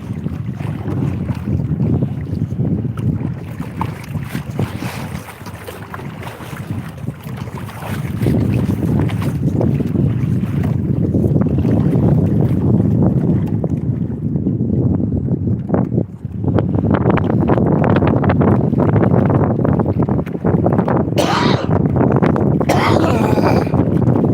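Strong wind gusts roar across the microphone aboard a small outrigger boat at anchor on a windy day, a loud continuous rushing that swells and dips with the gusts, with brief rattling and splashing near the end.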